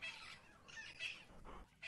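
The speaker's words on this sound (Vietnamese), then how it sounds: "Lại có tiếng báo động của lũ khỉ vang lên" Sharp alarm calls of monkeys ring out in an African forest, a few harsh squawking bursts near and far over quiet background, with no voices present.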